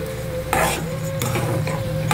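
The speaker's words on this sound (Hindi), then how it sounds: "इसमें हम 1/2 छोटी कटोरी चीनी डाल लेते हैं और इसको अच्छी तरह से मिक्स कर लेंगे" A spoon stirs sugar into thickened semolina in a pan for a festival prasad, with repeated scraping strokes and bursts of mixing noise over a steady low hum, close and fairly loud.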